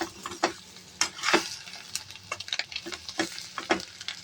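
Masala egg fry is stirred in a hot pan, with irregular scraping strokes of a spoon over a quiet sizzle, close up.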